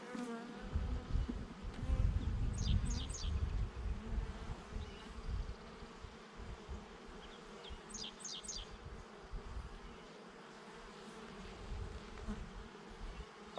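Honey bees buzz around hives in a bee yard, a dense droning swarm close by that swells loud early and eases to a softer hum, with no voices.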